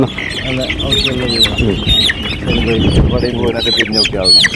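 Black Kadaknath chickens and turkeys on a farm cluck and call close by in busy overlapping bursts, with talking mixed in.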